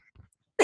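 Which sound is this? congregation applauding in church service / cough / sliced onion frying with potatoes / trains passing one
cough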